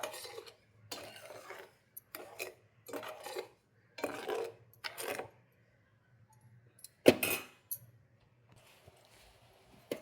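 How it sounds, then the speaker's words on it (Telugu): Rava and sugar being stirred in a pan until melted for Bombay rava laddu: quiet, intermittent bursts of scraping and clinking from a utensil against the pan, separated by short pauses. "రవ్వ మొత్తం కరిగేదాకా, షుగర్ మొత్తం కరిగేదాకా కలుపుతూ ఉండాలి"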